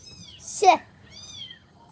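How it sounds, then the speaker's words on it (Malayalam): A white cat meows once, a short rising-falling cry close to the microphone, while an adult and someone talk softly around it in a quiet indoor setting. "പൂച്ചയുടെ സൗണ്ട് കേട്ടാണ്"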